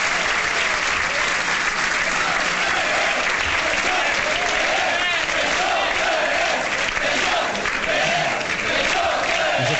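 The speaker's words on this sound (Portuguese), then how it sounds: "Os aplausos da Juventude Socialista às palavras de António Costa" Sustained, dense applause from a Socialist Youth audience at a Lisbon political speech, steady clapping throughout with scattered cheers and shouts mixed in.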